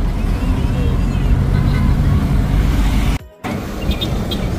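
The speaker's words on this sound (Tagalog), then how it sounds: "First time pa namin sumakay ito ng jeep." Steady loud engine and road rumble while riding inside a multicab jeep through Davao City traffic, continuous throughout with a brief dropout near the end.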